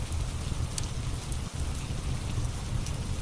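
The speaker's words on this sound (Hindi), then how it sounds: "बरसात में अकेला घूम रहा है" Steady rain falls through a rainy night, a dense even hiss of drops on surfaces with no pauses, one faint low thump midway.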